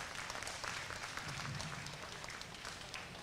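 An audience at a county fair livestock show in the arena applauds with steady, moderately distant clapping throughout.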